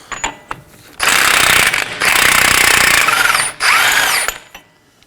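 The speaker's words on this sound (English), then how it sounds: "Now to remove our 32mm axle nut. You want to use an impact gun for this." An impact gun rattles loudly in several long bursts removing a 32mm front axle nut on a Chevrolet Equinox, hammering rapidly with brief pauses between them, close by and with no talking.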